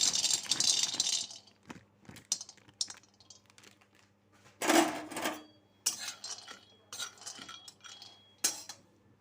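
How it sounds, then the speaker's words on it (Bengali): Peanuts stirred in a dry wok in a home kitchen, producing sparse, crisp rattling bursts and scattered clicks separated by quiet gaps, fairly close and moderately soft. "এইবার আমি কড়াইতে চিনে বাদামগুলো ভেজে নেব।"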